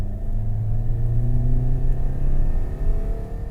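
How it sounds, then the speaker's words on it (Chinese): A 1.5-litre Toyota Veloz MPV in Power Mode pulls hard up a slope, its engine holding a steady, rising rumble with a clear droning tone that climbs in pitch and stays close and continuous. "但好像我们现在稍微要爬一点坡，我们来踩油"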